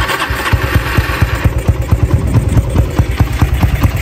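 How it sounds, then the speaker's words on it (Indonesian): A Honda CB motorcycle engine idles smoothly and close by, with an even, rapid thumping exhaust pulse that holds steady throughout. "Mesin halus."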